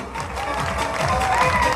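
A crowd applauds and cheers to welcome a speaker at a motivational talk, a steady dense wash of clapping with no break for the whole short stretch.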